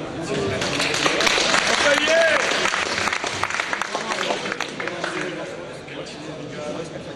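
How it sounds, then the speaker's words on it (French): Audience at a retrocomputing fair applauds a presenter, sustained dense clapping with crowd voices and chatter mixed through it, gradually thinning toward the end. "alors on l'applaudit."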